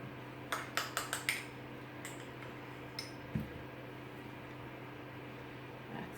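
A teaspoon clinks against a tin and tart cases while spooning mincemeat into tarts, a quick run of four light metallic taps followed by a few sparse clicks over a faint background hum.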